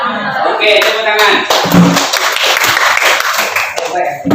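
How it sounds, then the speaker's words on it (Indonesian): Classroom students clapping together at a vocational high school, a burst of hand claps mixed with voices and chatter, fairly close and lively over about four seconds. "tepuk tangan"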